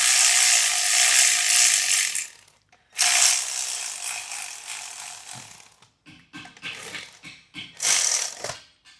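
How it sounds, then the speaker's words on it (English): Electric ratchet spinning on long nuts during a 6.7 Powerstroke DCR conversion install, loud buzzing bursts starting and stopping several times with brief pauses between runs, close up and with no talking. "if you have some self-control, you can start these with an electric ratchet"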